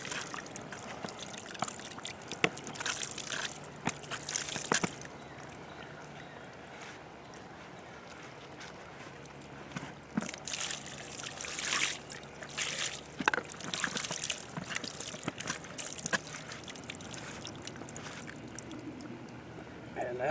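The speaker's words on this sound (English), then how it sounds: "look at all that dripping out" Water drips and trickles out of a DIY stock tank pool outdoors in steady, irregular patters with a few sharper splashes, close by over a faint windy background.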